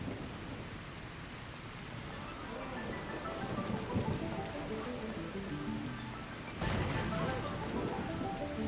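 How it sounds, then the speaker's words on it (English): Steady rain falls in a game world, a dense hissing wash with low rumbling underneath that swells near the end, continuous and fairly loud with no speech over it. "Finally, some rain."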